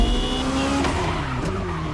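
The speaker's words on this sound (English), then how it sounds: "God, the engine sounds in this game, man." Car engines in The Crew Motorfest racing game, a steady broadband roar with a rising tone and possible tire squeal, continuous and fairly loud throughout, with no talking.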